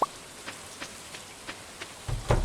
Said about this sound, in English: The rain doesn't stop me from getting a job done.